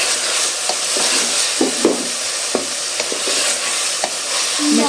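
Masala for aloo methi roasting in a pan, a steady close sizzle with a spatula scraping and tapping against the pan at irregular intervals.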